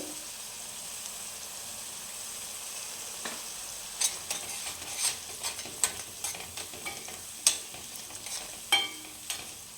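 A paste of amaranth leaves sizzles softly as it fries in a pan. Faint crackling runs underneath throughout, and sharper scrapes and clicks from stirring come more often in the second half.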